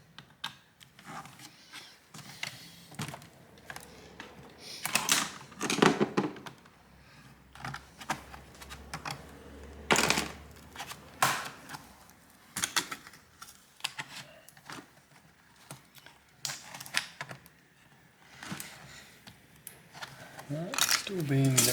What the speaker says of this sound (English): Use a pry tool. Hopefully get that keyboard out.